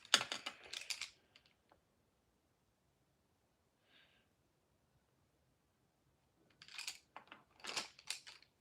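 A pencil sharpener grinds a pencil in two short bursts of scratchy, close shaving with a near-silent pause between them and no talking.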